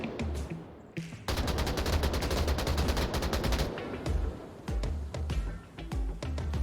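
Video game gunfire in a competitive match, with rapid automatic bursts and sustained volleys of shots, loud and close, broken by brief pauses before more firing.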